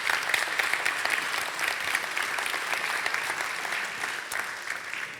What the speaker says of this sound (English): can we just give her a big round of applause